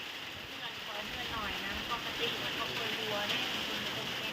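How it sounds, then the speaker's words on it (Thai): Heavy rain from an overnight storm pours steadily onto a small hut, a constant soft hiss of drops without pause. "ฝนนี่ก็นำตั้งแต่เที่ยงคืนพี่น้องเอ้ยยังบ่มีท่าที่ที่จะหยุดอยู่"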